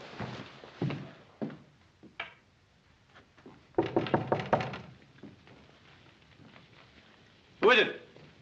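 Knocks on a wooden door in a 1960 western ranch-house scene, several dull thumps scattered among quiet room sounds, with a louder burst of activity midway and a short voice near the end.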